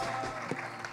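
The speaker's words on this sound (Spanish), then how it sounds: "Let's give God a tremendous applause." Brief burst of applause from a church congregation, dense and steady clapping from many hands filling the whole moment.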